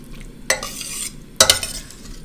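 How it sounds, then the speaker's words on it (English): Unsalted butter is stirred in a pan as it melts, giving two short bursts of scraping, sizzling stirring separated by a quiet pause, close and moderately loud. "We're going to melt this butter down"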